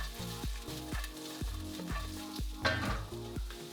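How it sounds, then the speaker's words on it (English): Onions sizzling in a hot pan while being stirred, a steady close frying crackle with repeated scraping strokes of a utensil every half second or so. "let's get our onions in. And we want to hear a sizzle there."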